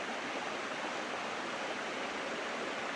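Clean running water at Hidden Falls in Portland, a constant, even rush of flowing water heard close and alone with no voices.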